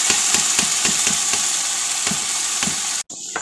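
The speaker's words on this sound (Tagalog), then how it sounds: "Ilagyan ko rin yung mantika bago ilagay ang rice." Hot cooking oil sizzles steadily in a pan before rice goes in, a dense hissing crackle with rhythmic stirring scrapes, close and loud, cutting off briefly near the end.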